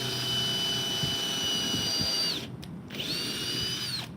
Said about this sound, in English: What we're doing is we're putting pilot holes in.